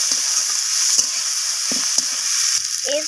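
Beans being stirred with spices in frying oil, a steady sizzle broken by several distinct scraping stirs of the spoon against the pan, close and alone.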